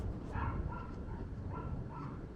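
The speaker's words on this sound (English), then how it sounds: "There's some dogs" Several dogs in a fenced area yap and bark in faint, scattered bursts from some distance, under steady outdoor street and park noise.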